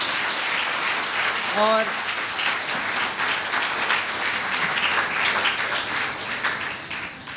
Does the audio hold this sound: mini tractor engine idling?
no